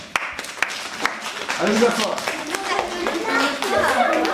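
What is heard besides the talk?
children's audience applauding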